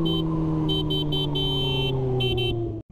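Car horn honking in short repeated bursts over a steady engine drone, loud and close, while driving in a convoy toward a large parking area.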